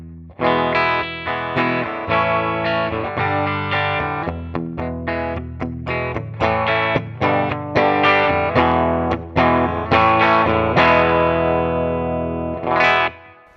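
Electric guitar playing a chugging chord riff through a Deluxe Clean amp model with a clean, bright tone, steady and loud, ending on a ringing chord with a squeal.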